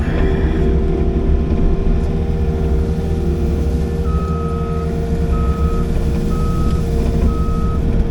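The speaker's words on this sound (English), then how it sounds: "back into skid steer in Vermont" A skid steer rumbles steadily at a Vermont work site, its low engine drone continuous throughout while a reversing alarm starts partway in, sounding four evenly spaced beeps over the machine noise.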